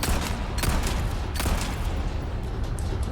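Two pistol shots in Resident Evil 4 remake, sharp cracks spaced under a second apart over a dense, loud in-game background of rumble and noise.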